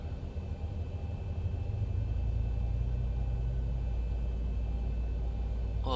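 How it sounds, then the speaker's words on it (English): A Boeing 737 engine in the X-Plane flight simulator video game starts and spools up as a deep, steady rumble that swells over the first two seconds and then holds loud and constant. "Right, starting engine number 1."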